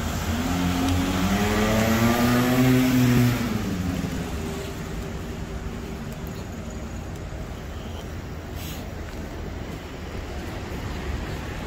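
On a street in Monaco a car revs and passes by, its engine note rising and falling loudly for a few seconds before fading into steady street noise.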